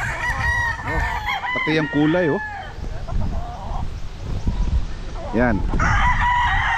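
Roosters on a gamefowl farm crow repeatedly, loud and close, with clucking from other birds between the calls; someone speaks briefly over the flock.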